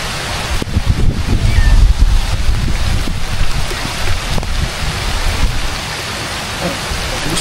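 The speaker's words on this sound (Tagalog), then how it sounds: "At bigla pong bumuhos yung ulan." Heavy rain pours down steadily in a dense, hissing roar, with gusts of wind buffeting the microphone.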